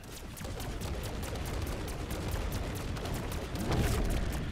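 Rapid, overlapping gunfire crackles nonstop through a Black Ops 6 Zombies boss fight, the sharp shots stacked into a dense barrage with a heavier burst of booms toward the end.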